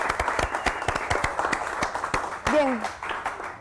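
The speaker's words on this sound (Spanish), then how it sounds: "Un aplauso para ellos y para ustedes." Studio audience and crew on a Panamanian television programme clap for the production team, sparse individual claps forming a loose rhythm, with a voice speaking briefly over them near the end.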